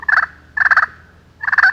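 Three short raspy bursts from a turkey friction call played with a striker, a cluck and purr with rapid fluttering notes, close and loud.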